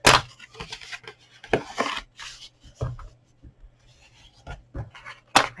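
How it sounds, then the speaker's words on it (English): Black card stock, already scored, being folded and burnished by hand in a series of short, close rubbing and scraping strokes with quiet gaps between them, no talking. "So we're just going to do our folds here. Give them a wee burnish."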